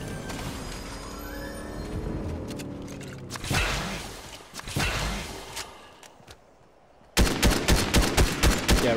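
Gunfire in the Fortnite video game rings out in sharp bursts, scattered shots early on, then a rapid string of loud repeated cracks near the end, with brief whooshes between.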